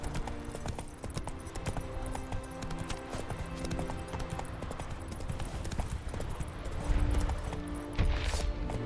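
Roach, Geralt's horse in The Witcher 3, gallops with steady rhythmic hoofbeats on a game road, close and continuous, with faint game ambience and occasional tack jingle underneath.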